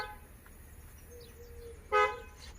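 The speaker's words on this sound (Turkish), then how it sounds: "Korna çola çola geliyor." A car horn honks once, a short loud blast standing out over quiet background noise and faint insect-like chirping.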